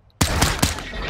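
A single gunshot fired in a first-person shooter game rings out loud and sharp, followed by a burst of further game gunfire and reverberant noise.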